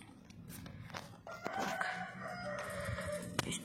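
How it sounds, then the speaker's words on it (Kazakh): Laying hens and a rooster in a home poultry yard, with soft clucking and a faint crow rising midway, fairly quiet and close, with no talking. "Міне мен тауықтарым түсіріп жатырмын."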